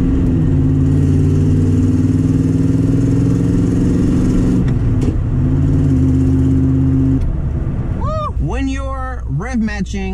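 Manual car engine held at a steady, loud drone while rev matching and downshifting, then rising and falling sharply in quick revving sweeps near the end, with a voice talking over it.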